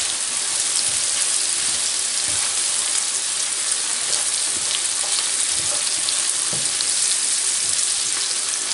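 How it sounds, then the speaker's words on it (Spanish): Mackerel in escabeche sauce with paprika fries in a pan, a loud continuous crackling sizzle with occasional stirring scrapes and no talk. "Lo sofría un poquito."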